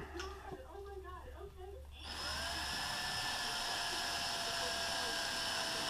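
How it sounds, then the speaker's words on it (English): A power drill spins up and runs steadily at a loud, high whine for several seconds, drilling into bamboo, after a short stretch of quieter handling noise. "Get the drill."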